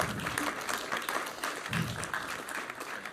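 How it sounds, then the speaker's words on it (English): Audience at a startup pitch competition applauding the first startup, a continuous moderate round of clapping with some murmuring, heard at a distance and fairly soft. "So are we ready for the pitch? Yes? Okay, so a big round of applause to the first startup,"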